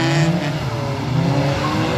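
A car drifts around a wet race track, a steady roar of engine and tires held at a distance with a smooth, continuous wash of noise and no voices.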